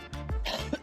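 A person coughing and clearing the throat, two or three harsh bursts close up, with no words spoken.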